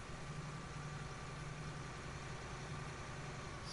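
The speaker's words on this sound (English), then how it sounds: "That is the nice thing about a powerful tractor." Steady low diesel rumble of a powerful tractor engine idling in a farming video game, set in Ireland, holding an even drone throughout with no voices.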